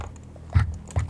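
Fingers or knuckles rapping on a wooden table to mimic footsteps, two soft dull taps about half a second apart, close and quiet.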